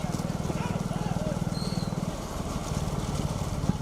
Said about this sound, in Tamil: நடைபெறுகிற பூஞ்செட்டு மாட்டிலே இரண்டாவது சுற்று இருபத்தி ஓரு வண்டி